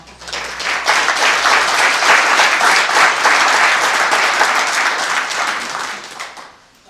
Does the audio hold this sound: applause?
yes